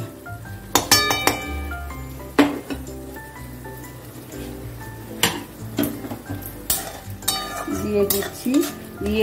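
Potatoes stirred and sautéed in spiced masala for an oler kofta curry, sharp clinks and scrapes of a utensil against the pan over a low sizzle, close and irregular.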